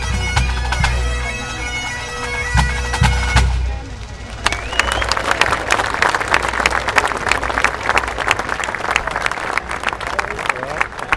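Crowd at the Worlds 2025 event bursting into sustained applause after music ends, a dense close wash of clapping continuing steadily, with a voice speaking over it.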